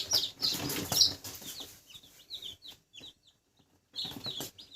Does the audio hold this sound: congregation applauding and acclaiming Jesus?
no